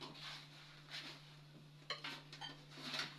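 Roasted fenugreek seeds being tipped from a pan onto a plate while making drumstick-leaf spice powder, giving a few faint clinks and light rattles with a quiet steady hum underneath.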